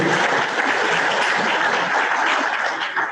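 Audience applause at a monthly luncheon, a dense, steady wash of many hands clapping at once, loud and continuous for about three seconds with no talk over it.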